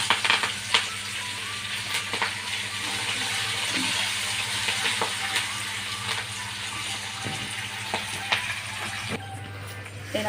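Curry leaves hit hot oil with fried seasonings for tamarind rice, a loud, steady sizzle and crackle that runs throughout with occasional clicks of stirring and a brief lull near the end.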